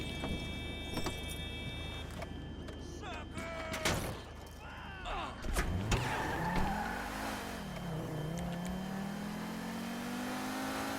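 Stolen car in the video game GTA Online starting up and accelerating away, engine rising into a climbing, wavering rev after door and key clatter, close and moderately loud.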